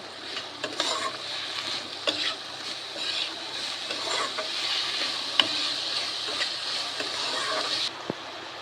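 Sugar is stirred into Bengali-style fried rice in a pan, giving a continuous scraping stir over a soft, steady sizzle, with small clicks and taps of the spoon throughout and no talk.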